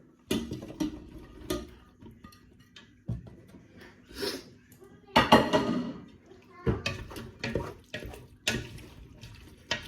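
Chilli being stirred in a pot after mushrooms and pepper go in, with repeated close scraping and clanking of a utensil against the pot in irregular bursts, plus faint wet sloshing.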